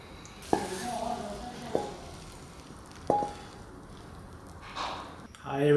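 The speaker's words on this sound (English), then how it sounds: "cook the vegetables until well done" Vegetables stir-fried in a pan for Cantonese dishes, a soft sizzle broken by a few sharp clanks of a utensil against the pan and a short burst of scraping near the end.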